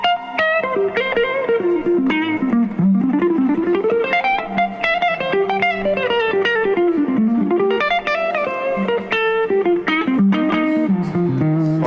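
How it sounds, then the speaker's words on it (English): Atlantic electric guitar played with distortion, a sustained, singing lead line that glides up and down through bends, with bright repeated picked notes standing alone, loud and close. "The tones that are coming out of that guitar, man. He's making it sing."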